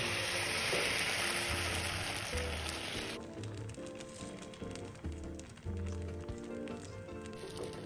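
Batter for a tuna egg roll sizzles in an oiled 10-inch flat pan over low heat, a soft steady hiss with faint bumps and clinks from the pan.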